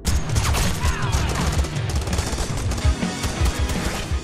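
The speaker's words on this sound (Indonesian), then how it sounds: "terjadilah aksi kejar-kejaran serta tembak-tembakan." Rapid bursts of automatic gunfire crackle through an action film chase scene, dense overlapping shots and crashes in a loud, chaotic barrage with no pauses.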